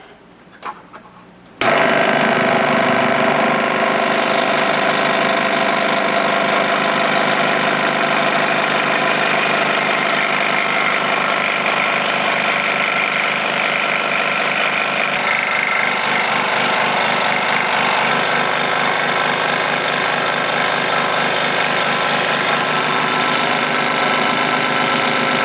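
A hot-wire or powered cutter slicing through a foam wing core for a Kougar model airplane, with a steady, loud mechanical hum running continuously after a brief start, close by and with no talk.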